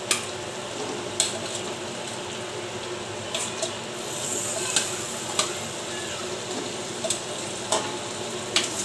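Pork ribs (buto-buto) for kaldereta sizzle and crackle steadily in a hot pan, with sharp clicks of a utensil against the pan now and then, heard close and without talk.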